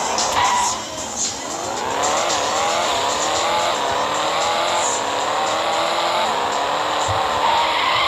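A sports car in a video game roars continuously at high revs, its engine pitch sweeping up and down through gear changes with squealing tires, loud and close, without any talking.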